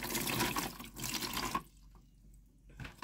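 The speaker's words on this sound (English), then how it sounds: "Now put your water in." Water pours into a plastic bucket used for a homemade air cooler, a close, loud splashing stream that stops abruptly partway through, leaving a brief quiet before a short final splash.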